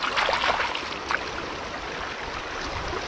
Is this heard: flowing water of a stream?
yes